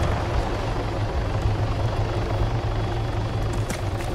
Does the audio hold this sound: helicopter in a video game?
yes